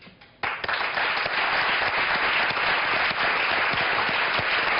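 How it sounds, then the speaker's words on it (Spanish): Studio audience of a Spanish morning TV show bursts into loud, sustained applause for Joaquín Amills, starting suddenly and continuing as a dense, even wash of clapping. "Por lo pronto este aplauso es para ti por tu lucha"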